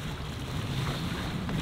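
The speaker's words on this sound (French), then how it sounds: "C'est les vagues qui nous ramènent en fait." Sea waves wash and slosh around a small boat on the Pacific, with steady wind noise buffeting the microphone throughout and no talk.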